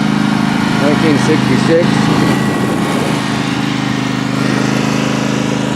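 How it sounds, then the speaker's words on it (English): Lawn mower engine running close by at a steady drone with a strong harmonic hum throughout, while someone talks briefly over it. "The lawnmower's making an awful lot of racket."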